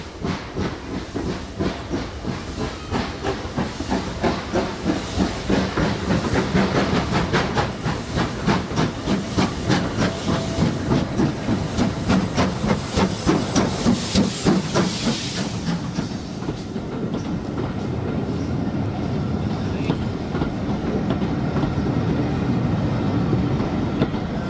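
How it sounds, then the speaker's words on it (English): Steam locomotive Pendennis Castle hauling a train into Arley Station on a heritage railway, with loud chuffing, hissing steam and clattering wheels building up close by, then a steadier rumble and hiss as it passes. "Prior to the arrival of our train being pulled by Pendennis Castle."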